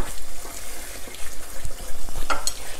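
Curry powder is stirred into a pot of beef stew, giving a steady sizzling, frying texture with soft scraping and stirring throughout and a couple of faint metallic clinks near the end, with no talking.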